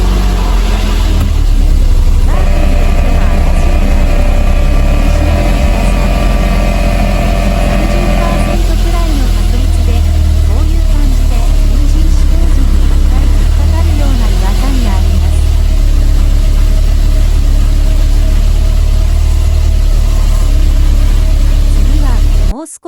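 A Mercedes 190E with the M102 four-cylinder engine, which shows a slight abnormal symptom at startup, turns over and settles into a loud, continuous, close-up running rumble that holds steady throughout before cutting off sharply at the end.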